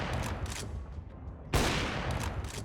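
Wallbang gunfire in CS:GO, bursts of shots through a wall: a rapid volley, a brief lull, then one loud crack followed by more quick shots, close and punchy with no talking.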